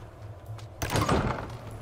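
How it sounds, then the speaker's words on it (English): A door in the video game Diablo 4 sliding open with a sudden heavy grinding rush that swells and lingers for about a second after a quiet lead-in, close and fairly loud. "Ooh, that was a good door sound."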